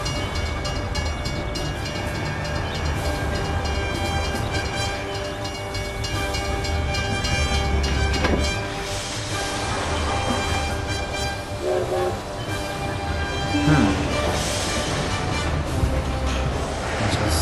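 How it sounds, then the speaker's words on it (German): A train rolls through a level crossing in the Mafia video game with a steady rumble and clatter of wagons. Horn blasts ring out partway through, and the passage runs continuously with a voice talking at times. "haben echt einen Zug gestoppt"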